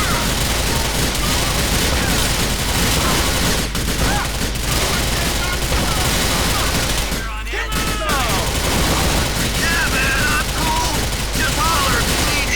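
Gunfire in GTA: The Lost and Damned comes as dense, continuous bursts and fusillades with booming shots. It is loud and sustained, with a brief lull near the middle, and someone talks faintly beneath it.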